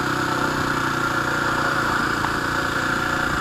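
Motorcycle engine running steadily on a ride toward Chopta on the way to the Tungnath trek, a loud, constant mid-pitched drone with vibration and no talking.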